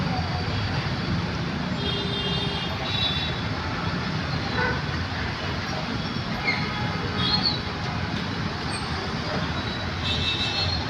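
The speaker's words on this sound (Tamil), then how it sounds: "ஒரு 2 மணி நேரமாக அப்படி தான் இருக்குது டிராஃபிக்கு இங்கே." Dense city road traffic in Chennai, with a cement mixer truck among the vehicles, makes a continuous roar of engines with occasional horn toots and tonal whines, steady and fairly close.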